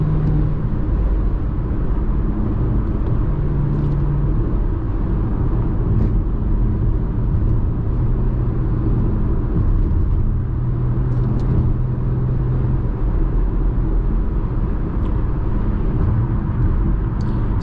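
Cabin sound of a 2018 Audi SQ5 cruising on the highway, a steady low road and engine rumble with tire hum and faint wind, continuous with no talking.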